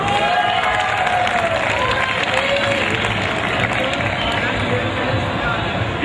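An audience at a Nukkad Natak street-theatre youth festival cheers and claps for a performer named Venkateshwara, a steady, moderately loud wash of crowd noise and hubbub with a few whistles.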